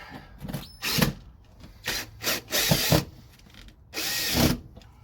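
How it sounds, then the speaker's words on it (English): Power drill driving screws with a worn, dulled bit during an ignition upgrade, heard as several short close whirring bursts separated by brief pauses, with no talk. "Looks like my bit's starting to show its age and get a little dulled out from thousands of screws."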